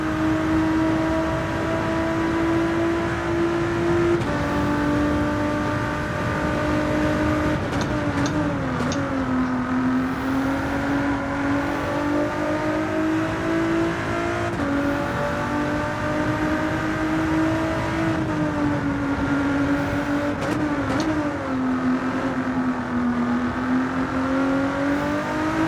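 Racing car engine in Gran Turismo 7 video game, a steady loud drone with shifting pitch as the car accelerates and eases off through corners, continuous and alone with no talk.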